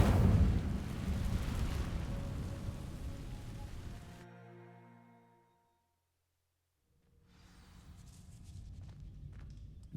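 A roaring, crackling burst of magical flame from the Incendio spell in Hogwarts Legacy fills the first few seconds loudly, then fades into a ringing tail and near silence before ambient sound returns.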